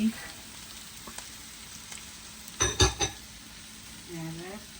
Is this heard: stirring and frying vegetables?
yes